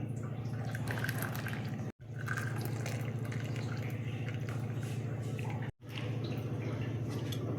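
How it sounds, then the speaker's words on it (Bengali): Chai with digestive powder poured through a strainer into a cup, a steady close trickle of liquid with two brief breaks in the flow. "চাটা দেখো ছেঁকে দিচ্ছি"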